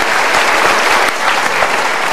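Studio audience applause at a motivational talk show, loud, dense clapping from many hands sustained without a break and heard on its own.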